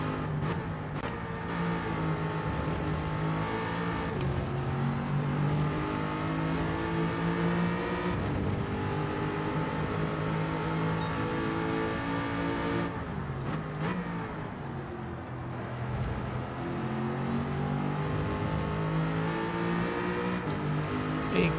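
Group 3 Lexus race car in Gran Turismo 7 at Road Atlanta, its engine droning steadily at high revs with repeated pitch climbs and drops at each gear shift, loud and continuous throughout.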